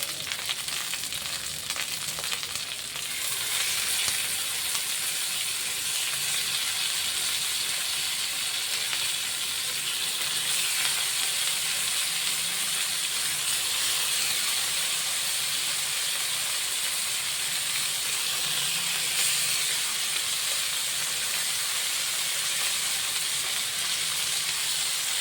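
Sardines frying in a pan on a bed of curry leaves over a low flame, giving a loud, continuous hissing sizzle that holds steady throughout, with no talking.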